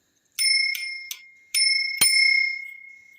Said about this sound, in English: This bell goes.